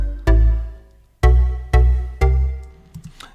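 Deep synth bass in a UK Bass 2 style preset, compressed, played in Ableton for a deep house track: four punchy, sustained low notes with sharp attacks, the first one separated by a gap and the rest in quick succession, followed by a few softer trailing blips.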